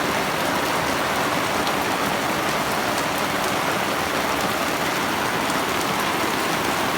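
Steady rain falls on a mountain campsite, a dense continuous hiss of drops on surfaces that stays even and fairly loud throughout, with no voices.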